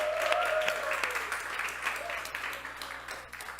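A church congregation applauds with a quick patter of many hands that tapers off over a few seconds. The clapping is fairly faint and heard from a distance, with a voice briefly present under it.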